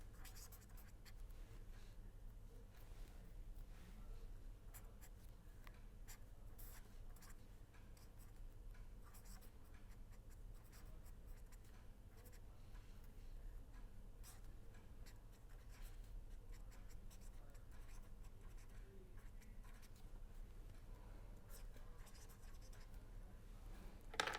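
Marker or chalk scratching an equation onto a board in a lecture hall, a faint, quiet run of short strokes and taps repeating irregularly over a low steady room hum.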